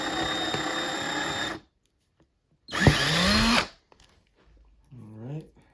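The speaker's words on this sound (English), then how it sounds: "and I drill from the bottom up." A power drill bores up through wood from the bottom while wiring a model railway layout, in two loud whirring bursts separated by silence, with a short lower mechanical whir at the end.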